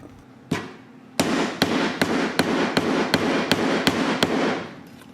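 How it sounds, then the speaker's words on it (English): A hammer strikes a PVC pipe seating a bike crown race, about a dozen sharp, evenly spaced knocks close to the microphone, after one lone opening hit. "put the PVC flush on top of the race, and hammer away"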